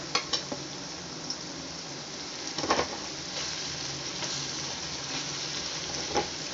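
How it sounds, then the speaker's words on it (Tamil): Sliced cabbage dropped into a hot pan and sautéing for pasta, a steady close sizzle with a few clattering stirs and scrapes near the start and middle. "இப்போ வந்து நம்ம முட்டைக்கோசு போடுவோம்."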